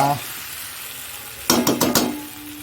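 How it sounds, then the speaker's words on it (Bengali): Green chili and tomato paste sautéing in a pan give a low sizzle, then a short burst of loud stirring and scraping about halfway through before the sound settles back into quiet frying. "কষানো হচ্ছে দেখো কষিয়ে নিয়ে তারপরে জল দিয়ে দেবো"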